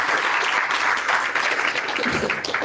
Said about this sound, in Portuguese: Uma salva de palmas para